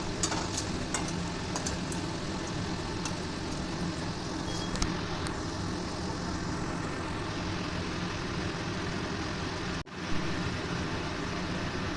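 Singara samosas deep-frying in a small amount of overheated oil, giving a steady, dense sizzle that runs nearly unbroken from start to finish with a brief dip near the end.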